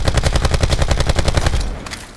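An assault rifle in Black Ops 4 fires in a fast, steady automatic burst of about fifteen loud, close shots, then falls silent with a short tail.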